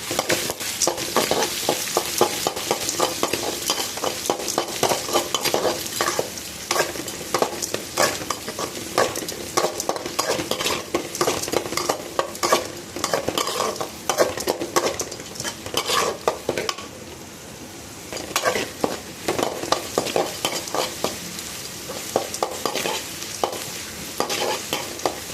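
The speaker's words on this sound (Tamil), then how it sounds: "நல்லா வதக்கி விடணும்" Onions and okra sautéing in a pan for a fried okra dish, a steady close sizzle broken by frequent scraping stirs of a spoon against the pan, with no voices.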